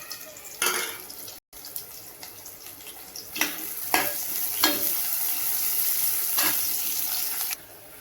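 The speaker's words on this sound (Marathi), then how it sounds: "कांदा बघा छान असा फ्राय झालेला आहे" Chopped onion fries in a pan with curry leaves and garlic, a close steady hiss punctuated by several bursts of stirring and a brief cut near the start.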